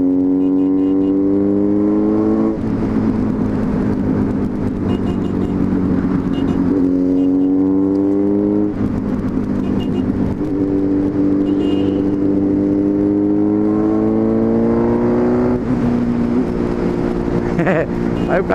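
A Suzuki B-King motorcycle in orange metallic accelerates on a ride home, its engine climbing through gears in repeated rising sweeps with shifts in between, loud and steady under wind and road noise.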